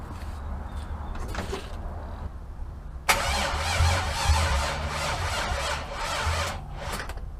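A race car engine cranks with a battery charger connected: a low rumble, then a sudden loud, sustained whirring crank with a harsh squealing edge that holds for several seconds.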